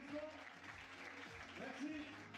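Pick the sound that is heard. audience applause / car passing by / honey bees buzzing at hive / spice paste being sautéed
audience applause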